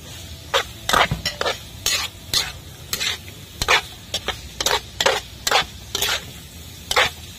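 Milkfish sisig sizzling in a hot pan while being stirred, with a steady frying hiss under a run of quick, irregular scrapes and clacks of a utensil against the pan.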